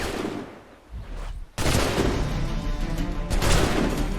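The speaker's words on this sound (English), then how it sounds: "Wait, stop shooting me." Gunfire in Assassin's Creed III comes from enemies shooting at the player, with loud dense bursts and booms, a brief lull, then an abrupt heavy barrage that continues without a break.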